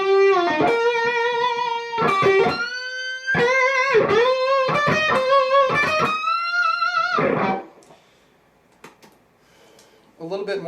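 A homemade Red Special electric guitar plays through effects in loud, sustained, distorted notes with gliding pitch bends over several phrases. After a near-silent pause, one brief final note sounds.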